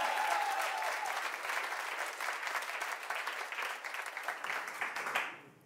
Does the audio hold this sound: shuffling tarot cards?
no